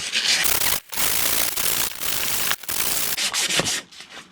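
Sandpaper of 320 grit rubs back and forth over a raw bike frame, making steady, close, rasping strokes with brief pauses between passes.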